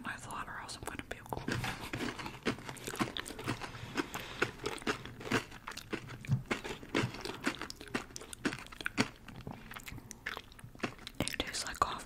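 Close, crunchy chewing of Silky Gems edible crystals with crisp bites and steady mastication, crackling textures repeating throughout, no talking.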